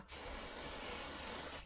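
Oil sprays onto the crankshaft of a 1964 Lambretta Li125 under restoration, one steady, close hiss lasting under two seconds.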